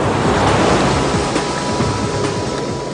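Ocean surf rolls and breaks in a steady, loud wash of churning water with gusts of wind, continuous and without a clear pause throughout.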